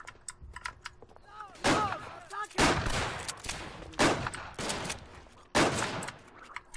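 Bursts of gunfire in a war video game, several loud separate volleys spaced a second or so apart, with quieter gaps between and faint background game sounds.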